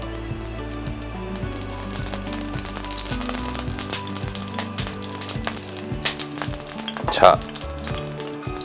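Lard sizzles and spits in a pan preheated on an LG DIOS induction cooktop, a steady close crackle lasting several seconds with a louder sputter near the end and a brief word spoken over it.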